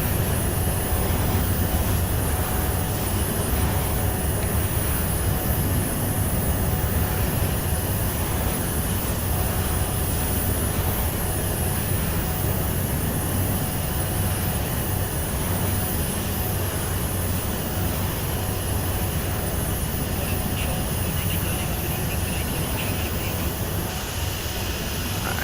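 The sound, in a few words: Dassault Falcon 50 jet engines in a flight simulator video game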